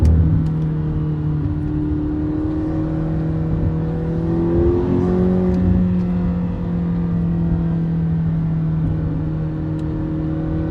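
A 2022 McLaren GT's 4.0 twin-turbo V8 with seven-speed dual-clutch, heard while driving as a steady engine drone whose pitch rises and falls through a gear change midway, fairly loud and with no talk.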